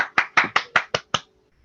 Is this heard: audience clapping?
yes